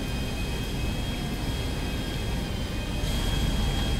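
Aircraft engine in the GTA V video game, a steady loud roaring drone with a thin whine on top that swells slightly near the end, with no speech over it.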